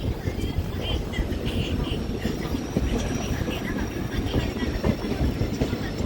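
A passenger train rolls through Sathirakudi railway station in Ramnad district, a steady rumble with faint rhythmic clatter of the cars heard close and continuous.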